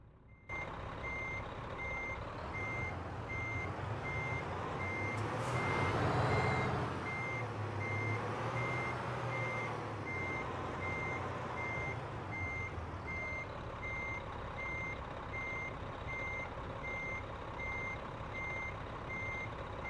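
A truck reversing alarm in American Truck Simulator, steady evenly spaced high beeps repeating throughout over a low diesel engine rumble, with a brief hiss of air brakes partway through.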